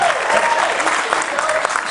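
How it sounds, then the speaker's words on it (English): A convention audience at a comic con in New Orleans applauds, steady loud clapping from a large crowd filling the whole moment without a break. "7 of you clapped there."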